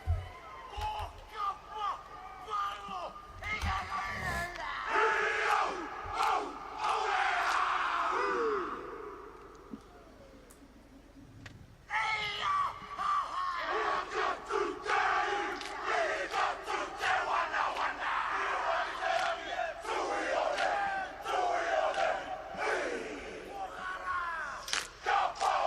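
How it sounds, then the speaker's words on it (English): New Zealand All Blacks chant a long haka before a rugby test against France while a large stadium crowd roars and jeers, loud and sustained with a brief lull midway before the shouting resumes. "It's a long haka. Wow, that was a haka."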